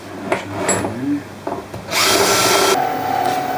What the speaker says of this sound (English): also used a trusty old McDrill to just countersink lightly the top edges